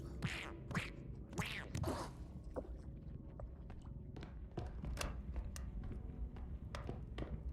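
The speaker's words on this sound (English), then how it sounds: "Did I hear another duck?" Duck quacking in the video game R.E.P.O., several short quacks early on among footstep-like shuffles and clicks, fairly faint, with no talk over it.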